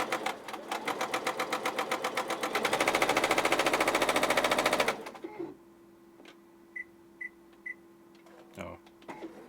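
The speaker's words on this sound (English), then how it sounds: "We are making stitches." A repaired sewing machine running and making stitches, a fast steady mechanical clatter that speeds up before stopping, followed by a few faint clicks and beeps in the quiet afterward.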